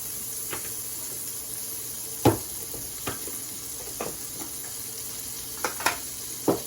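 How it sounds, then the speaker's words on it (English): Butter melting in a pan for brown gravy made from scratch, giving a low steady sizzle with scattered soft pops and scrape-like clicks of stirring, quiet and with no talking. "let the butter cook down fully"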